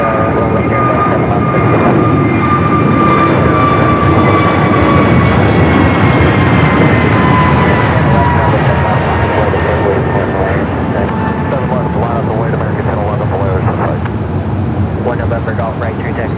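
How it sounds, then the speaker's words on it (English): Jet airliners taking off one after another at Phoenix Sky Harbor airport, a loud, steady engine roar with whining tones that holds for the whole stretch and slowly shifts in pitch as the aircraft climb away. "Back-to-back takeoffs."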